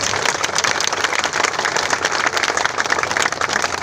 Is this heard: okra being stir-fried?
no